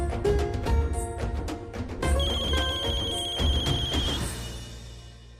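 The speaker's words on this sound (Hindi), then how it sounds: "इतनी रात को किसका फोन आ गया?" A telephone rings loudly and close by late at night, its bell-like trill repeating in bursts over a low musical background with no talking.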